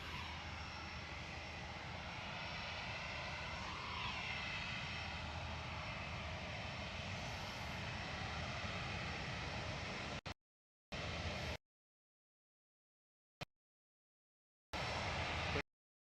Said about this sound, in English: Ethiopian headed back to Addis Ababa via Marseille. This is ETA-YB A350-900 with Ethiopian flight 727